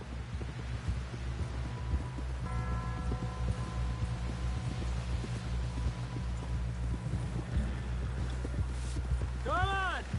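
Horse hooves clip-clop at a steady gait in the video game Red Dead Redemption 2, soft and partly buried under a low hum, ambience and spoken game dialogue.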